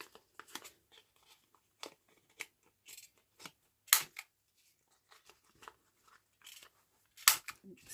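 Scissors snip the corners of paper journaling tags round, giving a series of short, crisp cuts at irregular intervals with a few sharper, louder snips, close up and otherwise quiet.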